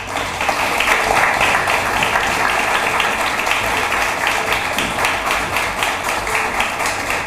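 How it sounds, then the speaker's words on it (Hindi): An audience claps steadily to welcome guests at a televised discussion on attacks on Hindus in Bangladesh, a dense, loud, sustained round of applause with no voices over it. "आप सभी से कि तालियों के साथ उनका स्वागत करें"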